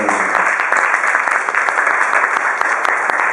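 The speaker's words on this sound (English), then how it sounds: "Could she have a round of applause?" Loud, sustained applause from an audience at a Berlin comedy show, given for a friend and assistant named Zina Krause; a dense, continuous roar of clapping close up.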